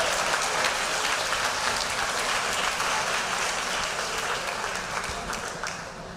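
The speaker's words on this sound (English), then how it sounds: "Let's give a big round of applause." An audience at a winter and spring athletic banquet applauds student athletes, a dense continuous round of clapping that holds steady, then slowly tapers off.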